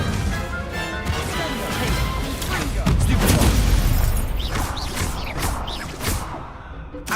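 A fire spell cast in the game Hogwarts Legacy erupts in a loud, crackling whoosh and burst amid other spell impacts and crashes during a duel, with bright sparkling bursts near the end.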